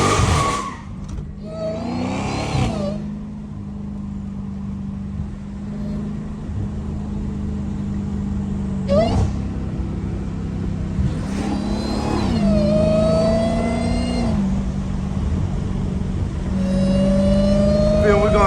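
A Dodge Hellcat engine revs hard and holds a steady drone while its tires slide and squeal around corners, pitch rising and falling with each throttle push; someone talks over the engine.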